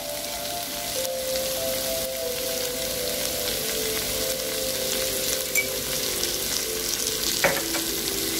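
Bitter gourd stir-fries in a pan with turmeric and salt, a close, even crackling sizzle running throughout, with a few light clinks of a spoon against the pan and no voices.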